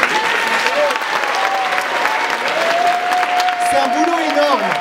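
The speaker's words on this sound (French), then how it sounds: "Je voudrais que vous leur fassiez un tonnerre d'applaudissements" Sustained applause from a concert audience honouring the volunteer organisers, dense and steady clapping throughout, with a few voices and whistle-like tones rising above the crowd.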